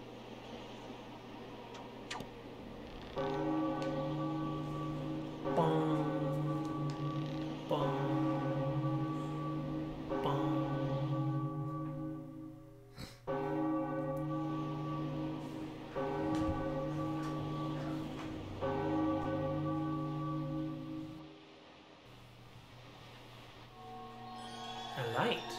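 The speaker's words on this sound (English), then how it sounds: "I have to ring the bell." A bell rings repeatedly in The Legend of Zelda: Wind Waker, steady resonant chimes struck at regular intervals over a quiet background hum, fading near the end.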